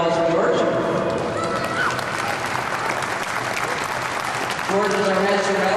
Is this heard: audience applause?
yes